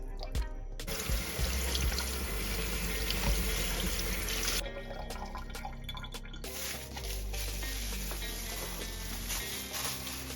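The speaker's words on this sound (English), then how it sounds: "I'm gonna rinse these, and then we'll be ready to dry them off" Oxtails being rinsed under a running kitchen tap, a steady close stream of water splashing and dripping over the meat in a sink, continuous for the whole stretch with a brief change in the flow partway through.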